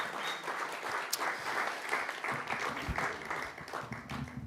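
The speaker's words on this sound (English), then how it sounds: "Would you give him a big round of applause, Pablo from Cafe Nero?" An audience at a live venue claps for a man, a moderate, even spread of many hands with a faint voice mixed in underneath.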